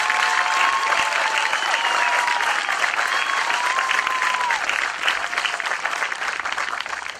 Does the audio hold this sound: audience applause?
yes